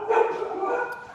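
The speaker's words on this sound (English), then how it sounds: "dogs are barking" A dog gives one short, muffled bark that trails into a slight whine, close and moderately loud, with no other sound around it.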